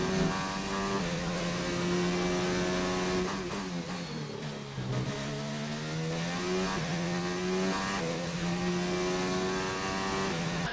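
An F1 race car laps Australia in an F1 video game on PS4, its engine whining steadily at high revs through upshifts and downshifts, with pitch sweeping down and back up through corners.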